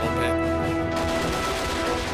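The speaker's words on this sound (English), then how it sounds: "The gunfire sounds awesome." Gunfire in an Army Men mod of the Men of War video game rolls on as a steady, dense burst of shots and rumbling blasts, loud and continuous with no talk over it.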